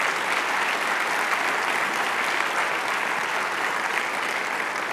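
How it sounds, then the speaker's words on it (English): A large conference audience at a software testing event in Austin gives a steady round of applause, an even, dense patter of many hands held at constant loudness throughout with no voices over it. "if you could give a big round of applause to everybody"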